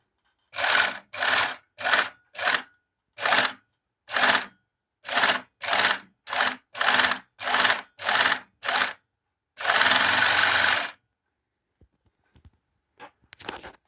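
A Jasmine FN2-4D four-thread overlock sewing machine runs in a series of short, even, loud bursts, then one longer sustained run, followed by a few faint clicks.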